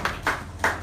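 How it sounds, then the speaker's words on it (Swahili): A church congregation claps for the Lord during a Bible study and prayer service, three loud, close bursts of clapping in a quick, uneven rhythm, with no talk over them. "Hebu tupigie Bwana makofi makubwa."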